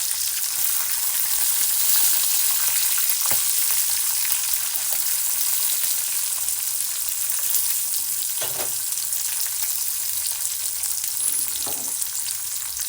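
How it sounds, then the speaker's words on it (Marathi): Peas fry in a pan alongside other vegetables, a loud, even, continuous sizzle with a few faint knocks, close and steady throughout. "यात जातील मटर मटर आहेत म्हणून टाकते मी"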